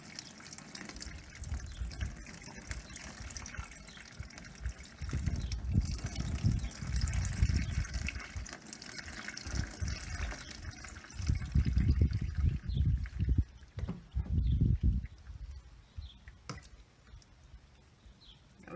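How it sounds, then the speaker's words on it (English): Plain tap water poured through ice-dyed fiber, a steady trickling and splashing stream that swells and eases in several pours, close and moderately loud. "we're just going to pour water through here."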